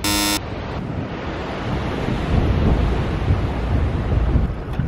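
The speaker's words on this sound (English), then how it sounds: "Nice coast with the waves splashing on the left." Ocean waves splash along the coast at Hualien, Taiwan, heard from a road bike. A steady broadband wash of surf runs throughout, mixed with wind buffeting the microphone and swelling slightly toward the middle.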